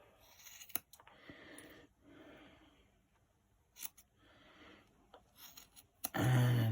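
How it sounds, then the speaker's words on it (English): Scissors snipping through yarn loops of a handmade pom-pom, several sharp separate cuts spaced a second or so apart, close and fairly quiet, ending in a louder rustle of handling. "cut through those loops"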